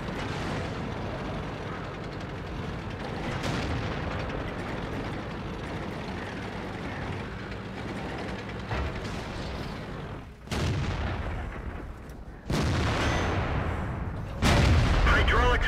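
Tank cannon shots and explosions from the video game World of Tanks boom out over steady engine rumble, with three sharp heavy blasts near the end; someone talks over the battle.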